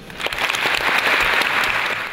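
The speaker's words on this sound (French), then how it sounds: "vous n'avez pas fini d'applaudir" A graduation ceremony audience at an engineering school gives dense, continuous applause, many hands clapping at once in a full, close wash of sound without pause and with no speech on top.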